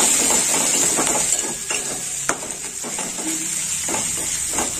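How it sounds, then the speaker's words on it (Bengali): Ginger paste masala frying in a pan while being stirred, a steady sizzle and hiss with scattered scraping and tapping of the spoon against the pan, close up, with no talk. "একটু নেড়ে চেড়ে নেবো"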